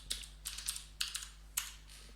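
Fingers tap out a password on a computer keyboard in four short bursts of quick, close keystrokes separated by brief pauses, with no voices present.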